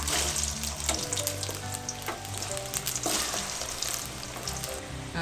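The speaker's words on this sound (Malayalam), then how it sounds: "നമ്മുടെ എണ്ണ ഇവിടെ നല്ലോണം ചൂടായിട്ടുണ്ട്. അതിലേക്ക് നമുക്ക് കാ ഇട്ട് കൊടുക്കാം" Raw banana pieces frying in hot oil for sarkara varatti give a steady, dense sizzle throughout, with occasional stirring scrapes and a faint tonal hum underneath.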